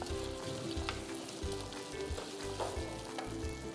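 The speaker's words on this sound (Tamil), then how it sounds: "இப்போது நம்ம போட்ட பரங்கிக்காய் ஓரளவு வதங்கி ஒரு ஸ்டேஜ்க்கு வந்திருக்கு" Pieces of yellow pumpkin sautéing in a pan, a soft, continuous sizzle and crackle with occasional stirring, fairly quiet and close, and no speech.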